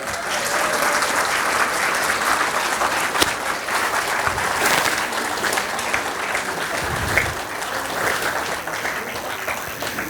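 Applause from a student and parent audience at a coaching institute evening session in a hall, sustained loud clapping lasting about ten seconds with crowd murmur beneath.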